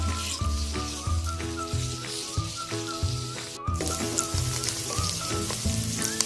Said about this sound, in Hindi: ऑयल मैंने डाल दिया है और ये मैं प्याज डाल दूंगी। इसको हमने हल्का सा फ्राई करना है